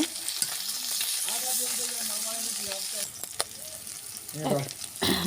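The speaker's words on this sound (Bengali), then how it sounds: "তেল গরম হয়ে গেছে এবার মাছ ছাড়ছি আমি সব মাছগুলো এবার আমি কড়ার মধ্যে দিয়ে দেবো" Small puti fish frying in hot oil in a kadai, a continuous bright sizzle with occasional stirring clatters and a burst of louder crackling near the end, while a voice talks faintly in the background.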